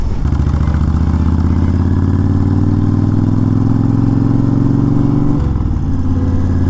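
A Honda Fury motorcycle engine runs loud and steady while riding, its low throbbing drone holding a constant pitch before dipping slightly as the throttle eases near the end.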